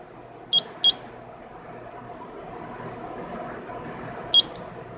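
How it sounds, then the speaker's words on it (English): Three short, high electronic beeps from a device, two close together and one a few seconds later, over a quiet room hum. "Just let me ignore these beeps, and I need to reset this"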